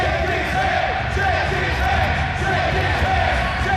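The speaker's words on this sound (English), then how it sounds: "Hear a chant of shake his hand." Crowd at a professional wrestling show chanting in unison, a loud, dense rhythmic roar of many voices filling the hall throughout, with the chant repeating steadily.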